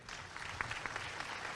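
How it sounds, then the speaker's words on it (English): An audience at a Chamber of Commerce monthly luncheon applauds Senator Girdler after an award presentation, a steady, fairly distant wash of clapping with a few sharper individual claps. "Big round of applause for him."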